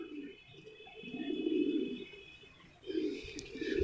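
Low, soft cooing from Teddy pigeons, two drawn-out rolling coos close by with a faint high tone in the background.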